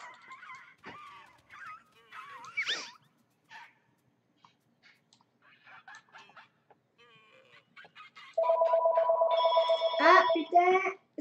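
A phone rings in the Spore video game, a steady electronic ringing tone entering near the end, preceded by scattered game chirps and a person speaking casually over the game sounds.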